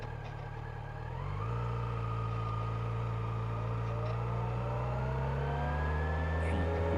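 A motorcycle engine on a riding-school lesson catches and settles into a steady, loud running drone that rises slightly in pitch as it revs, with no talking over it.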